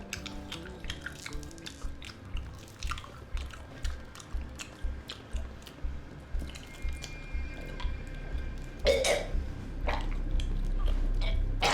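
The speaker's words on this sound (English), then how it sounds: "can you please chew quietly?" Wet, open-mouthed chewing with repeated squishy, smacking bites in a steady rhythm, close and fairly loud against a low background hum, with no talking.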